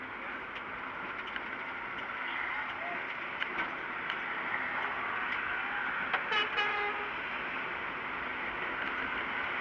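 A train rumbles past overhead above a street in Bandung, Indonesia, a steady broad roar with faint rhythmic clatter and a brief higher whine near the end, with faint voices underneath.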